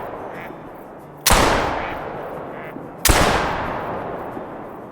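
Two loud hunting-rifle shots about two seconds apart during a duck hunt in the video game theHunter: Call of the Wild, each a sharp crack that rings out into a long fading echo.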